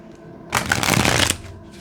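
A single brisk riffle of playing cards, a dense papery burst lasting under a second against a quiet room.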